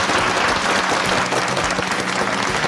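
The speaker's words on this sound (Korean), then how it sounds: "우리 노태원 선생님과 또 그 가족에게 여러분 정말 큰 박수 보내주시고" A large audience bursts into sustained applause at a Korean lecture-style stage event, dense and steady throughout the whole stretch, filling the room at a loud, even level.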